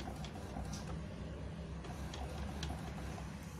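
An Epson inkjet printer runs a print job sent from an Android phone, its mechanism whirring and clicking steadily with a few sharper ticks, close by and moderately loud, with no talk.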